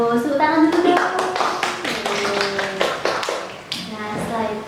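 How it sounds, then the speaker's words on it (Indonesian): Primary school children clap their hands in a classroom, a burst of separate close claps mixed with excited kids' voices and chatter over it. "Tepuk tangan dulu dong."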